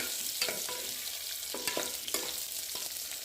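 Grated radish with ginger sautéing in a pan: a steady sizzle under repeated spoon-scraping stir strokes, close and fairly rhythmic, with no voices.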